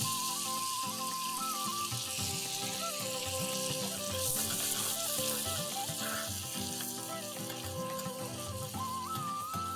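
Cumin seeds sizzle steadily in melted butter, a continuous close crackle and fry hiss that lasts throughout, with faint background music underneath.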